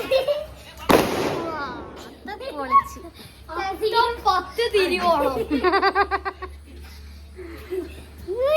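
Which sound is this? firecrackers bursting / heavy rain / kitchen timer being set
firecrackers bursting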